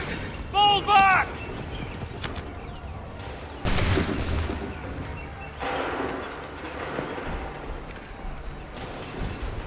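Musket volleys in Assassin's Creed III ring out as two heavy, booming bursts a couple of seconds apart, with shouted orders from a voice before them and a rumbling din of battle behind.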